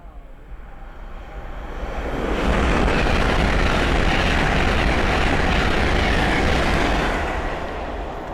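A Hull Trains Class 800 running from Edinburgh Waverley to London King's Cross passes at speed on the East Coast Main Line at Sandy, building from a distant rumble to a loud sustained roar before easing slightly.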